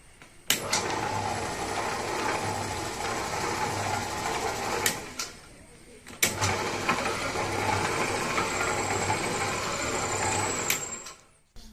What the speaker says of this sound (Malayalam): ഈ റിഡക്ഷൻ ഗിയർ 4000 കിലോ വരെ വെയിറ്റ് എടുക്കുന്ന ഗിയർ ബോക്സാണിത്. അപ്പോൾ നമുക്കൊന്ന് വർക്ക് ചെയ്ത് നോക്കാം.